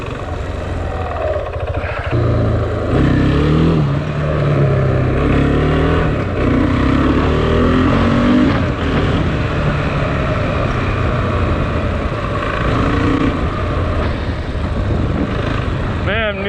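Engine drone of a KTM Duke 690 motorcycle heard while riding on a New Mexico road, a steady loud hum with shifting pitch under heavy wind rush throughout.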